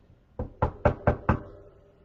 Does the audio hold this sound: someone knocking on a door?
yes